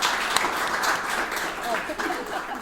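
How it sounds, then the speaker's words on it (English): A crowd at a startups meetup panel discussion applauds the panel speakers with sustained, fairly loud clapping, with voices mixed in beneath it. "Round of applause for these."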